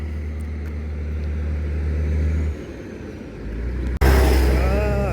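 Cars rolling across the newly opened Rogova bridge on a rainy day, a steady nearby engine and tyre rumble that swells, dips, then jumps louder as another vehicle comes close.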